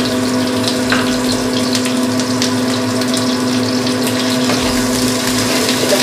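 Water poured into frying spice paste with ginger in a pan for dahi paneer: a steady loud gushing, sizzling wash that runs continuously with a constant hum beneath it.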